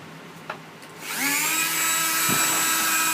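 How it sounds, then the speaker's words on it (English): A Duragrit woodcarving burr on a rotary tool spins up after a click and runs at a high, steady whine while cutting wood, with a faint bump of contact near the end. "I'm going to show how each of these burrs cuts"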